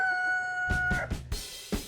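Rooster crowing on a homestead with a growing chicken flock, a clear drawn-out crow followed by a few short clucks and calls at close range.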